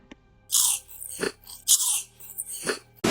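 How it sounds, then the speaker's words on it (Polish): Someone eating loudly nearby, with bursts of wet crunching and chewing that come in uneven clusters separated by short pauses, close and fairly clear, with no speech. "nie jedz tak głośno"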